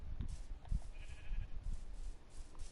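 A sheep in the video game Minecraft gives one short, fairly faint bleat over a low, rumbling farm backdrop.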